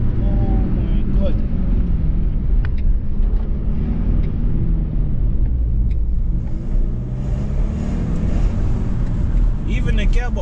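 A manual BMW driving on the road, with steady low engine and road rumble filling the cabin throughout while a person talks over it.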